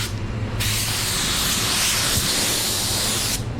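A 3M Performance spray gun lays down 730 clear coat in one continuous, close, loud hissing burst lasting about three seconds, with a faint low hum beneath it.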